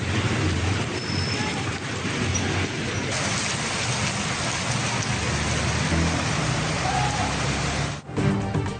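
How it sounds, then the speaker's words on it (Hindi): Torrential monsoon rain pours down in Punjab, Pakistan, a dense, steady roar of water striking surfaces that continues without pause and ends with a brief dip and thud. "मुल्तान, बहावलपुर, विहाड़ी और गिद्दनवाह में मूसलाधार बारिश।"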